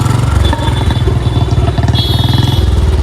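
A motorcycle engine runs close by with a steady, throbbing putter and a mechanical clatter, loud and continuous, no one speaking over it.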